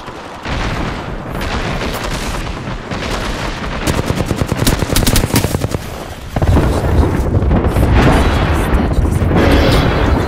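Apex Legends gunfire in a fast firefight: dense bursts of rapid automatic shots, a stretch of sharp rattling fire mid-way and booming impacts, loud and close, with game effects and some voice chatter mixed in.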